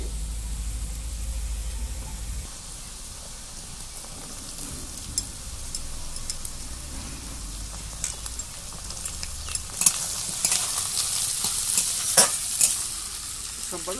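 Chopped beans tossed into a pan of frying carrot and potato for masala rice: a continuous close sizzle and hiss under the rhythmic scraping of a stirring spoon, with no talking.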